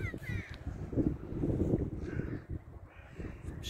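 Crows caw a few times from a distance by the sea, harsh and brief, over a steady rumble of wind and outdoor noise.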